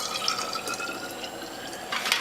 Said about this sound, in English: we're going to take this bowl and fill more bottles